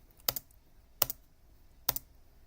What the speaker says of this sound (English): Keyboard captured. Can you hear that, Josh?